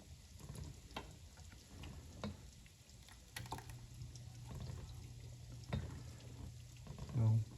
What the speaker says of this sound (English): So let me just go ahead and just keep stirring away